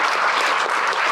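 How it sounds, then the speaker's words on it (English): A burst of audience applause at a talk in Rotherham, loud and dense with continuous clapping and no voices over it. "A big round of applause, I think."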